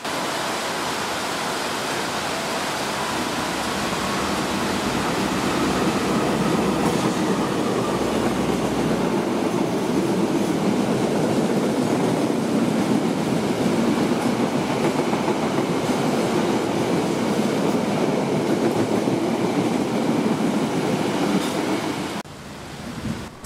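A locomotive-hauled train, the Taksaka pulled by locomotive 206, rumbles through an Indonesian station in a loud, sustained roar with faint clickety-clack of wheels, fading near the end.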